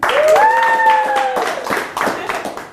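Brief scattered applause from a comedy-club audience voting by clapping, a handful of claps mixed with a voice and a rising tonal whoop early on, fading over a few seconds.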